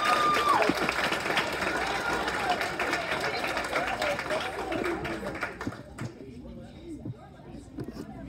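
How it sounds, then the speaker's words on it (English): Guests at a girls' soccer banquet applaud and cheer for the Defensive Player of the Year, clapping and whoops that fade after about six seconds into scattered claps and murmuring voices. "let's give a big round of applause for our 2021 Defensive Player of the Year"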